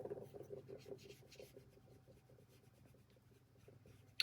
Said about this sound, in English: So I'm gonna do these flicking motions,